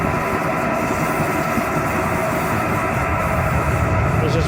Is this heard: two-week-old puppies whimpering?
no